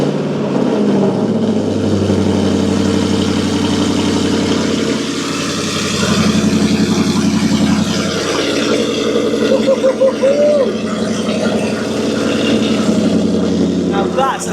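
A Jaguar XFR 5.0 supercharged V8 running steadily after a cold start, a loud, close and constant engine drone with slight swells, while a person talks over it.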